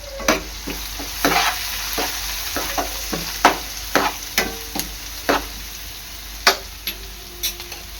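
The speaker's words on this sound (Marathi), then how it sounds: "आता आपला कांदा आहे ना तेलामध्ये चांगला परतून घ्यायचा आहे" Finely chopped onion and green chilli fry in oil while a spoon stirs them, with sharp scraping knocks coming irregularly over a steady sizzle.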